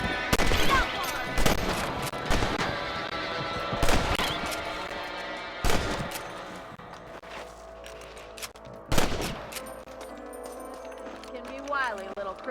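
Gunshots in the Red Dead Redemption video game crack out in sharp, loud single reports spaced a second or two apart, with game voices talking between the shots.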